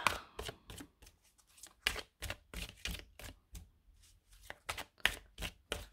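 Oracle cards are shuffled close up in quick, crisp bursts of riffling and flicking, with short pauses between them. The sound is quiet and comes alone, with no talk.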